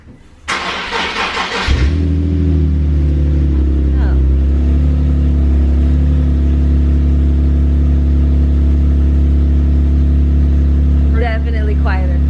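An Audi S-line car with its stock muffler refitted cranks over and settles into a steady, loud idle that runs throughout, with brief voices heard near the end.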